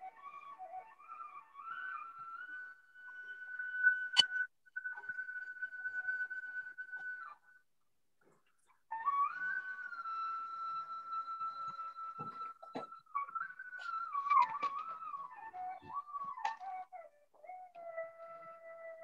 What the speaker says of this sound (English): Now this is the sound of flute.